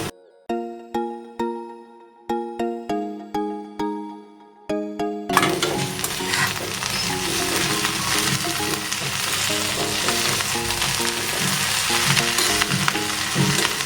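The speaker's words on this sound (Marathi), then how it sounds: "आता आपण याच्यामध्ये भाजी घालून घेऊया" Drumstick leaves for shevgyachya bhaji drop into a pan of browned onion and burst into loud, continuous sizzling with stirring, preceded by a series of clear melodic chime-like tones.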